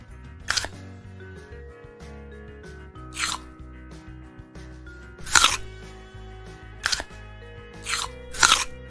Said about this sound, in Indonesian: Jika jawabannya ya, coba gigit lagi apelnya